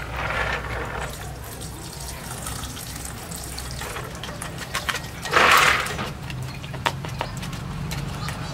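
Water runs from a tap to refill a container while making passion fruit smoothies, a steady splashing flow under a background hum, with a louder gush midway and scattered clinks.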